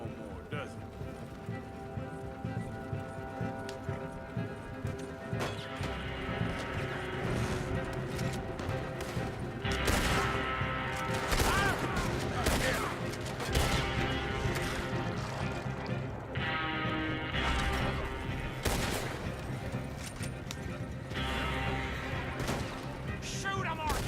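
Chaotic gunfight in the Wild West video game Red Dead Redemption 2, with shots and crashes amid galloping horses and a rolling wagon, loud and continuous under frequent shouted talk.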